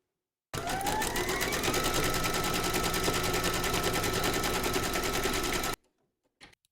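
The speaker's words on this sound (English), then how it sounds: "Load your matching bobbin and thread colour for the satin stitching along these two edges into your machine, and then stitch round number 6" An embroidery sewing machine satin stitching, a fast rapid-fire mechanical rattle with a rising whine, loud and steady for about five seconds before stopping abruptly, followed by a brief faint click.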